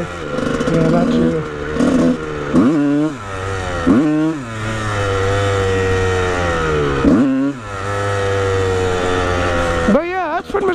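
A motorcycle engine revving hard in repeated bursts, with rising and falling whines and brief throttle drops, loud and near, mixed with some background talk.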